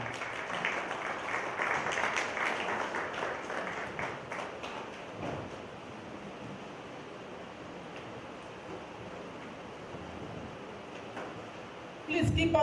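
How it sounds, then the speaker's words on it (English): An audience at a Yoruba festival applauds a dignitary walking to the high table, a broad wash of clapping that is strongest early and settles into a steady hiss, with a sudden louder burst at the very end. "can we put our hands together for her while she comes to the high table?"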